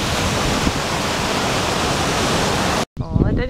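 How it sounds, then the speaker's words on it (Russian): A waterfall on Valaam roars loud and steady as dense broadband rushing water, cut off abruptly near the end, followed by a brief stretch of close talking. "Водопад."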